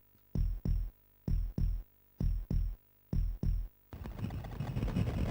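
A heartbeat sound effect in a real-time strategy video game thumps in four close double-beat pairs, loud and deep, then gives way to a rumbling, noisy wash at the end.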